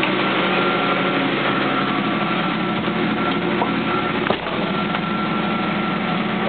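A 1979 Hurst Olds engine idles steadily just after a cold start, a constant, fairly loud running note with no talk over it.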